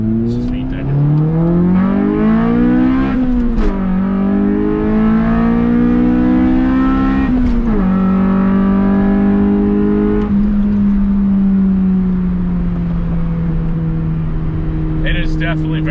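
A Honda Del Sol's engine drones loudly from inside the car as it accelerates, with rising pitch through the gears, dips at each shift, and a steady cruise at the end.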